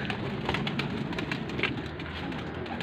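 Pigeon cooing at a pigeon show, a soft repeated coo over steady broadband background noise, fairly close and continuous throughout.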